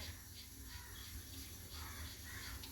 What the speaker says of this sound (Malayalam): ആദ്യമായിട്ട് ഞാൻ എടുത്ത് കുറച്ച് വെളിച്ചെണ്ണ ഒഴിക്കട്ടെ